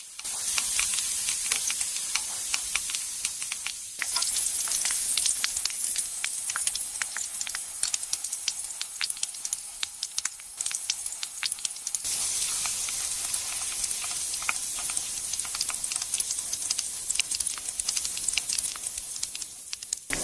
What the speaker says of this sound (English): slices now enter large industrial fryers filled with hot cooking oil